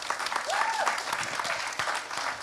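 Audience applause fills a conference hall during a climate justice and human rights session, a steady patter of many hands clapping at moderate loudness.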